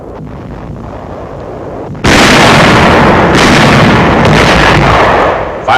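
WWII artillery firing on enemy barges on the Rhine near Dusseldorf in 1945: after a low rumbling lead-in, a sudden loud sustained roar of gunfire with repeated sharp bursts, close and harsh.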